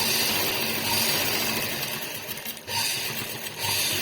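A sewing machine stitches a blouse with a steady, close, continuous mechanical whir that briefly dips once before running on.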